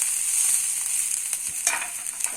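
Chopped onion and green chilli frying in a pan for masala dosa filling give a steady, close, high sizzle with a few soft stirring scrapes and no talk.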